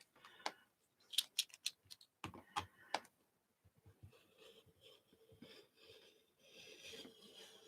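Paper for an art journal being cut produces a quick burst of crisp snips and clicks, then a quieter, softer scraping and shuffling, all faint and close with no speech.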